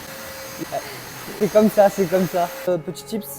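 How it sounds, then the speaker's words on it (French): A vacuum cleaner drones steadily in the background while someone talks over it, its hum constant throughout. "Désolé pour le bruit de l'aspirateur."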